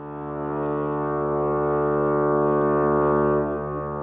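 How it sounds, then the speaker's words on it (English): A deep, sustained horn booms like a foghorn, loud and steady for about three seconds before tapering off, alone in a game soundtrack setting. "And then this horn booms out."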